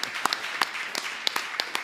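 A few people clap in short, scattered bursts at a St. Kitts Music Festival artist press conference, sharp individual handclaps at close range rather than a full crowd ovation.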